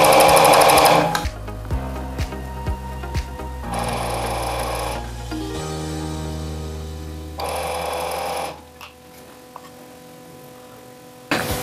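A sewing machine stitches a round T-shirt collar in loud, close bursts, its motor whirring between short stops and a few sharp clicks of the mechanism, with no voices.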